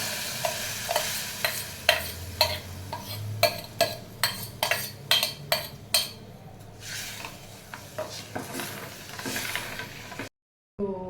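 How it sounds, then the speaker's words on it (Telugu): Soaked rice tipped into a pan of frying spices, capsicum and paneer for pulao, giving a run of clattering stirs and scrapes over a steady sizzle, loud and close, ending in a brief silence. "మనం ఇందులో ముందుగా నానబెట్టుకున్న రైస్ ఉంది కదండి, అది ఇందులో వేసేద్దాం"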